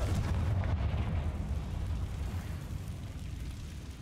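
A Confringo spell explosion in the video game Hogwarts Legacy, a deep rumbling fiery blast that fades slowly over a few seconds, heard alone without talk.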